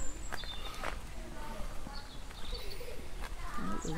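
Birds calling in the gardens of the Bishop's Palace in Wells, Somerset, with faint scattered chirps and coos over outdoor background noise and distant voices.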